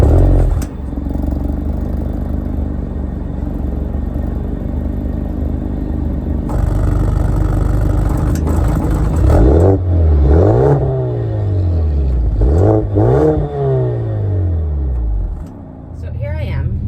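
Mercedes-AMG GLA45 compact performance SUV engine droning steadily from inside the cabin, then revving in several rising and falling sweeps as it accelerates through gears, loud and close, with a voice talking over parts of it.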